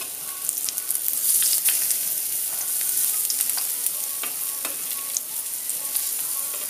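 Falafel patties sizzle steadily in hot oil, a dense continuous frying hiss with small crackles and pops scattered throughout, close and fairly loud with no voices.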